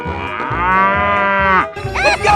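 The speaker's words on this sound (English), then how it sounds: "Cow." A cow in a 3D animal video game lets out one long, loud, close moo, then a short wavering call, over a thumping background beat.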